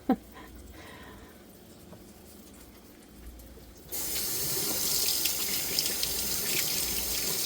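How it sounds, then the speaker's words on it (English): A kitchen sink tap is turned on partway through to rinse hands. Water gushes steadily and close by until the end, after a quieter stretch of room noise. "Rinse my hand off a little bit and get some of this stuff that's caked up on it."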